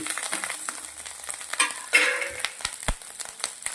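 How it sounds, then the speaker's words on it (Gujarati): Cooked rice drops into a hot tempering with curry leaves and is stirred, giving a crackling sizzle under repeated scraping and tapping of a spoon against the pan. "આવી રીતના આપણે હવે ભાત નાખી દઈશું"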